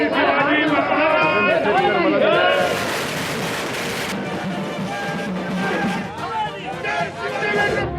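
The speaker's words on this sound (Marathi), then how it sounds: "हा जल्लोष आहे मराठा आरक्षणाचा, क्रांती मोर्चा आंदोलकांच्या विजयाचा आणि अर्थातच भाजपच्या कार्यकर्त्यांचा" A loud, dense crowd celebrates Maratha reservation, mixing shouts, chatter and cheering with a sustained roar partway through, while someone speaks over the din.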